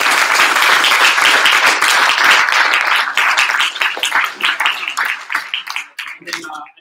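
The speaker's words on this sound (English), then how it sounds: "So let's give them a big round of applause." A large audience breaks into loud, dense applause that holds strong, then thins into scattered claps and fades out as a voice starts to speak.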